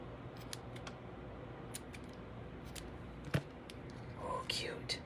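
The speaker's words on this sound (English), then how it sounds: "Grab my scissors." Scissors snipping ribbon during papercraft card making, with a few faint, quick, crisp cuts and small handling clicks over a quiet room background.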